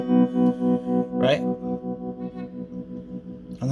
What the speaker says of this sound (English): this is connected to the foot pedal, but it's called tremolo.